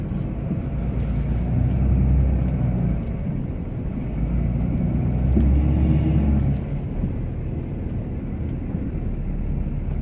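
A Cummins diesel Ram pickup truck plows snow, its engine rumbling steadily up close with two swells in power, one around the second mark and one a little past the midpoint, and nobody speaking.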